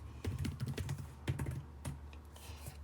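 Keys clatter on a computer keyboard as a Windows command is typed at the command line, a steady run of close, crisp keystrokes with brief pauses between bursts and no talking.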